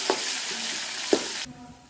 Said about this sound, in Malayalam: കടുക് വറക്കുകയാണ്.